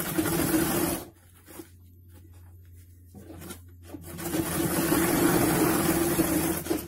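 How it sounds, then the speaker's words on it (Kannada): A sewing machine stitches fabric for a handmade bag sewn from a blouse piece, its steady motor whir running loud at the start, pausing quietly for a few seconds, then resuming in a sustained near hum. "ನಾನು ಇದನ್ನ ಒಂದು ಸೈಡ್ ಇಂದ ಕರೆಕ್ಟ್ ಆಗಿ ಇಟ್ಬಿಟ್ಟು ಸ್ಟಿಚ್ ಮಾಡಿ"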